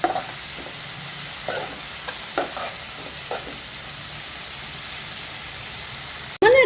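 Prawn shells frying in a pan for a Telugu-style egg and prawn-shell curry, a steady soft sizzle with a few brief stirring scrapes, heard alone at close range.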